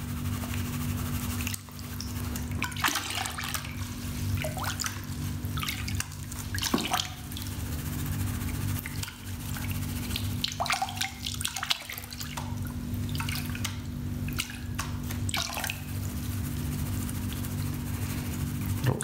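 Water sloshes and splashes as a gold pan is dipped and worked in a sake barrel during gold prospecting, with irregular close wet sounds over a constant low mechanical hum.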